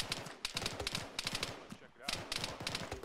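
Gunfire in the military video game ShackTac (Arma-style), sustained volleys of overlapping rifle and machine-gun shots rolling on for several seconds, loud and dense, with voices talking underneath.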